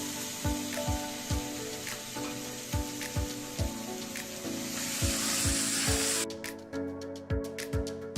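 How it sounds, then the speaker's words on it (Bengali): Shrimp frying in hot oil previously used for potatoes, a steady close sizzle and spatter with rhythmic low taps throughout, no one speaking. "ওই তেলের মধ্যেই আমরা চিংড়ি মাছটাকে দিয়ে ভেজে নিচ্ছি।"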